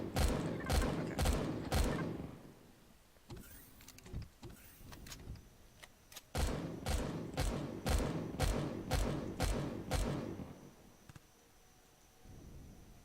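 Bursts of rapid weapon fire in the sci-fi survival game Empyrion, loud repeated thudding shots in two long volleys separated by a quieter stretch with scattered impacts.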